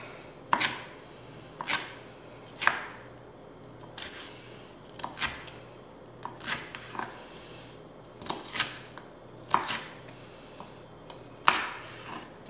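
A knife dices chilies on a cutting board for shredded beef tacos, giving sharp, separate chops roughly one per second, close and fairly quiet over a low background with no voices.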